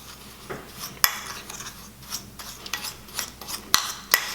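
Sugar and jojoba oil for a homemade lip scrub get stirred in a small container, giving soft gritty scraping and rubbing strokes with a few sharper clicks of the utensil on the rim, close and fairly quiet, with nobody speaking.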